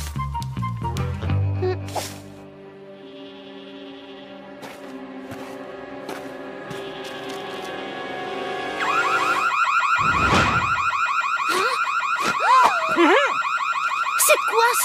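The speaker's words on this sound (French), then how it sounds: "Qui a déclenché le système d'alarme?" Alarm system in an animated series goes off, a loud electronic warbling wail that rises and sweeps continuously, joined by higher chirping tones partway through.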